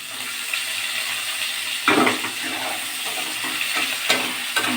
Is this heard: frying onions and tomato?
yes